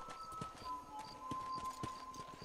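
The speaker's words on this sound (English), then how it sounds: "Okay, let's get off the horse." Horse hooves clip-clop at a walking pace while riding in the Red Dead Redemption video game, faint and steady under ambient game sound.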